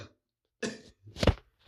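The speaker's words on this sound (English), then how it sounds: "ignore my cough over here." A single person coughs twice close to the microphone, a short harsh burst followed by a louder, throaty cough in an otherwise quiet room.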